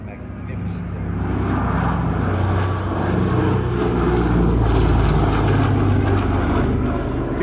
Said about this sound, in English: We start with the Historical Aircraft Restoration Society's Super Constellation.